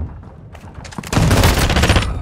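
Call of Duty gunfire breaks out as a few scattered shots, then a dense, loud automatic burst that rattles on continuously to the end.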